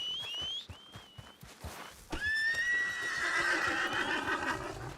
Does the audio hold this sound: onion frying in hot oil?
no